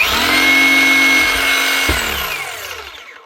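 A new Hikoki DH40MEY2 demolition hammer runs with a loud, close, whirring motor noise, then its pitch falls and the sound fades as it winds down.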